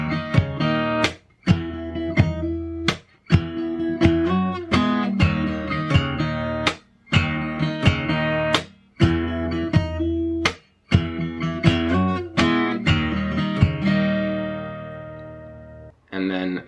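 Acoustic guitar played fingerstyle through the chorus of a song, plucked notes and chords with slides and hammer-ons, punctuated by short pauses and ringing out at the close.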